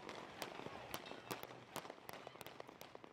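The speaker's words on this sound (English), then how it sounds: "A sudden, intense volley of shots left protesters and police alike scrambling for cover." A rapid volley of sharp gunshot cracks goes off during a street protest in Ferguson, with uneven bursts of reports over a noisy outdoor crowd background.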